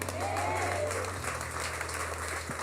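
A church congregation claps together in steady, dense applause that fills the room, with a faint voice rising briefly over it.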